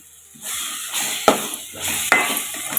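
Ground spinach paste for palak paneer is added to a hot pan, setting off two loud bursts of close sizzling and frying with a soft stirring scrape between them.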